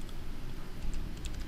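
Keys on a computer keyboard are pressed in a quick, light run of soft clicks over a low steady hum, close but quiet.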